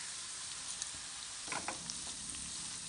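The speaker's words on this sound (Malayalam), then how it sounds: "ഇഞ്ചിയും വെളുത്തുള്ളിയുടെയും ഒരു പച്ചമണം മാറുന്നത് വരെ നമ്മൾ ഇളക്കി കൊടുക്കണം." Ginger and garlic frying in a pan, stirred until the raw smell fades: a constant bright sizzle with a couple of brief scraping stirs in the middle.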